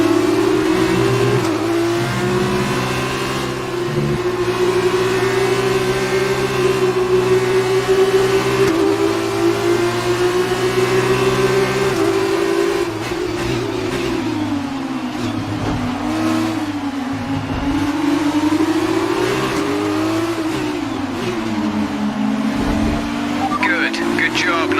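F2 race car engine in F1 2019 while overtaking, a loud sustained engine whine shifting pitch through gear changes and revs, with a race engineer talking over it.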